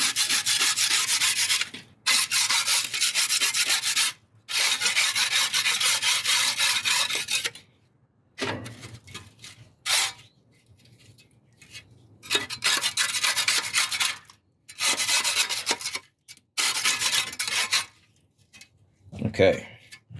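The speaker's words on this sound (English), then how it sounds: "nastiness in here. I'll scrape it all off there." Gas grill grates are scraped clean of caked-on grime in repeated long, harsh rasping strokes broken by short pauses, close and loud. Brief sparse sounds fill the gaps.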